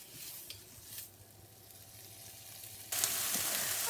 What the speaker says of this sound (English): I hope you can hear me above the sizzle of the frying pan.